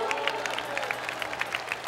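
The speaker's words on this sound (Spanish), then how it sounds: "¿Cuántos le dan un aplauso a la gloria de Dios?" A congregation claps together in quick, fairly even beats, heard from a little distance over a low background hum.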